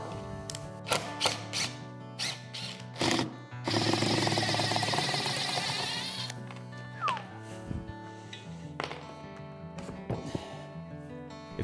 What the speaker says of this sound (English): it is a lot quicker to drill these holes before assembling the footrest